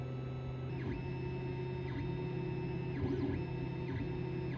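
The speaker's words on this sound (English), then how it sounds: "This part is going to max out my Ender 3 printer's capabilities, almost completely filling the print bed." An Ender 3 3D printer prints a large part filling nearly the whole bed, giving a steady close mechanical hum with stepper-motor whines that rise and fall in repeated sweeps.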